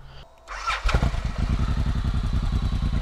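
A Suzuki M109R motorcycle engine starts, then settles into a steady, loud, throbbing low idle close by as it warms up, with no talk over it.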